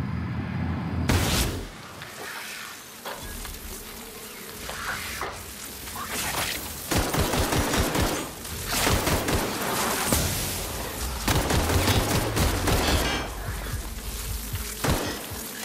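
Video game gunfire in The Outer Worlds comes in repeated bursts of sharp shots and crackling impacts over a loud, dense combat soundscape lasting the whole stretch.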